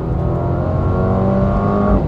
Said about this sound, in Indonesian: dia langsung raungan knalpotnya berubah suaranya